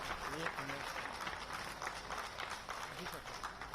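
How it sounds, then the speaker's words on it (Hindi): Crowd applause welcoming Chief Minister Shivraj Singh Chouhan at an event in Ujjain, a faint, continuous patter of many hands clapping at a distance, with a voice speaking over it. "जोरदार अभिनंदन, लगातार ये तालियां बजती रहें।"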